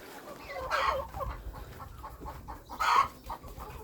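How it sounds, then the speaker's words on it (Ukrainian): A turkey hen calls out twice in short, loud bursts in a farmyard, with quieter clucking and ambient sounds between the calls. "Що за крики? А, індичка."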